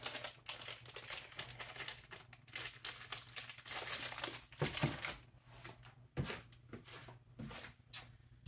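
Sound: crinkling plastic bag of white chocolate being opened

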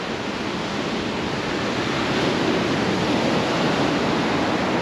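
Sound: rough sea waves breaking on the shore

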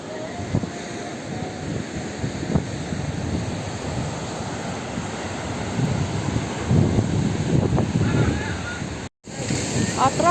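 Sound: wind by the sea

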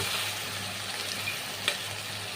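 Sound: masala with yogurt paste and ghee frying and being stirred

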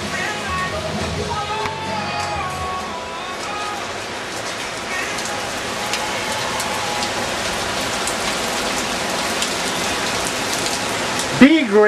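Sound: heavy rain

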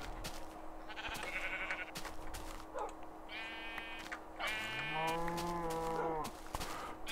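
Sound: sheep bleating in Adventure Time video game

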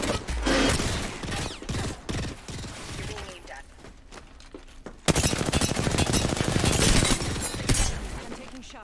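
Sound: gunfire in a video game shooter

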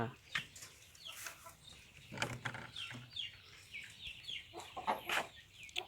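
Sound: hen clucking

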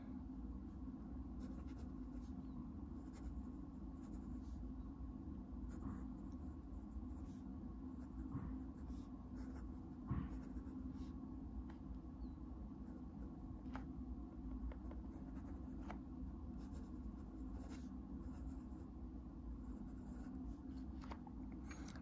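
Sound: fountain pen nib writing on paper

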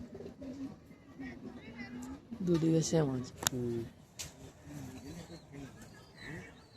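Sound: Andhra Madrasi pigeons cooing

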